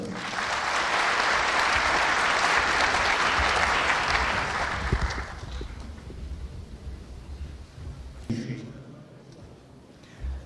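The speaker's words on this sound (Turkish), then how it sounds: "Alkışlarınızla uğurluyoruz." An audience at a public event in Kayseri applauds loudly in sustained clapping for several seconds, then the sound fades into quieter scattered claps and room noise.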